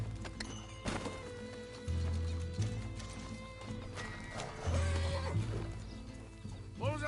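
Horse neighs and whinnies with clip-clopping hooves in the video game Red Dead Redemption 2, set against a busy game soundscape with music, several loud whinnies recurring near and clear.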